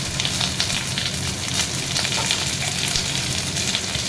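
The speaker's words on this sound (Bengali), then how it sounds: "এবার এটাকে ভাজছি" Steady, dense sizzling and crackling of peanuts frying in a hot pan with garlic, continuous and close, with no talking.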